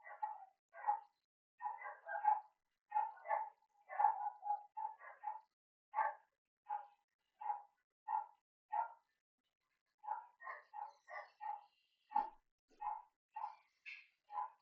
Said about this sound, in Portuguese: Tem uns cachorros aqui fazendo barulho aqui.